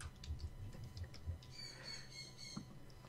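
A person at a tabletop role-playing game session vocally imitates a chicken, giving a string of short squawking yelps over a low murmur of room noise.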